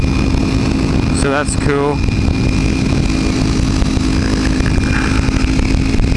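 Kawasaki ZX6 sport motorcycle engine droning loudly and steadily while riding, with a brief rising rev in the middle and wind roar throughout; a voice speaks briefly over it.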